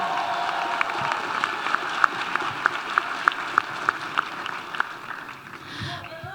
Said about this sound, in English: Please give them another round of applause for their creativity and leadership.